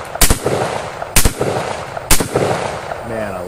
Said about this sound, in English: so I'm just going to send these rounds